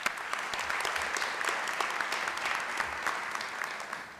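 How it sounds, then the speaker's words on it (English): A room full of people claps warmly at a city State of the City address, with crisp individual hand claps forming a dense, steady burst of applause throughout. "Give them a round of applause."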